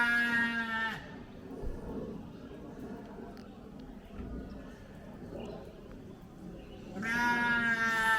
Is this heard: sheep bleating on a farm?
yes